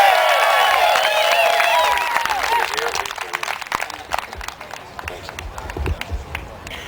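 Rally crowd noise with scattered applause and cheering, loud and diffuse, rises beneath a voice that fades out early, then carries on alone as a steady crowd roar.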